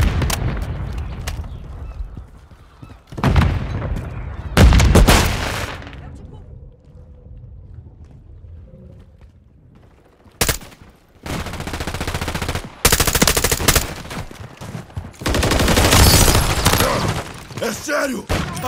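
Rapid bursts of automatic gunfire and single loud shots crack in a Call of Duty Modern Warfare 3 team deathmatch, scattered across the clip with quieter gaps between volleys.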